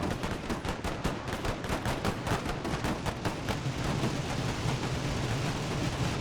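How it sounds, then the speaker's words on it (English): Rapid bursts of Maxim machine gun fire in a Carlist Wars strategy video game, a dense, continuous rattle of automatic shots sustained throughout, loud and close with no talking. "This is the Maxim gun again with the same rotation."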